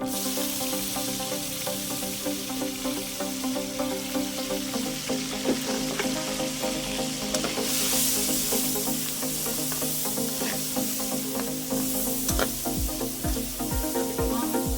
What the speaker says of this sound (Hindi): अच्छे तरीके से फ्राई करेंगे प्याज की